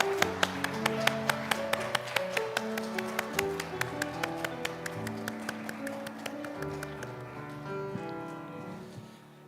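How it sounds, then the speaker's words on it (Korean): A church congregation claps in steady rhythmic unison during a Sunday worship service, the sharp regular claps sounding over sustained organ or keyboard music and singing for the whole stretch. "하나님께 영광의 박수 올려드리겠습니다."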